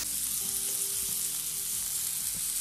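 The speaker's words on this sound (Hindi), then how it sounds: "हम डीप फ्राई करेंगे ऑलमोस्ट" Chicken pieces for Thai satay deep frying in hot oil, a steady, close, continuous sizzle and bubbling that fills the whole stretch with no talk.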